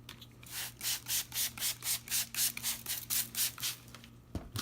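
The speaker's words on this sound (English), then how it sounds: "So go ahead and spray it." A spray bottle pumped about a dozen times in a steady rhythm, spraying water onto a crochet piece for blocking, each short hissing burst close and clear, with a faint low hum underneath.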